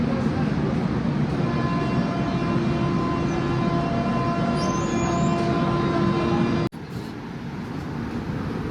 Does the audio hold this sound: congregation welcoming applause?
no